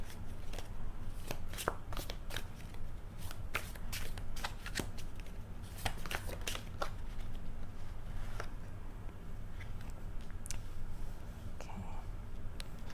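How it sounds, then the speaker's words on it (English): A tarot deck being shuffled over and over, crisp riffling bursts repeating steadily for several seconds against a low background hum. "this is not an easy deck to shuffle, so I'm going to speed this up probably."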